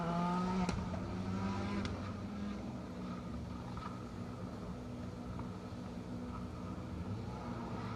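A rally car pulls away onto a long gravel section of a circuit rally stage, its engine a steady, moderately distant drone that fades only slightly over several seconds, with no talk over it.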